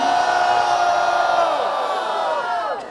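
A large crowd at a street rap battle roars and cheers for MC Guri, a loud sustained mass of yelling voices that slowly fades.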